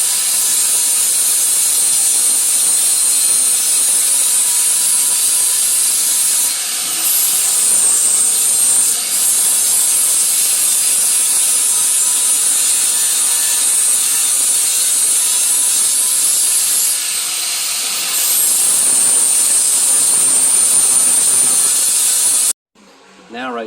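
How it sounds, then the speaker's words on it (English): An angle grinder with a 60 grit flat flap disc grinds the metal of a commercial mower deck, a loud, steady, high abrasive whine that runs continuously for over twenty seconds and then cuts off abruptly, with no voice over it. "I'm going to start grinding away and we'll see how bad this thing looks"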